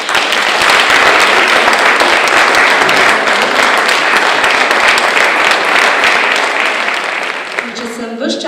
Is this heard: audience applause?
yes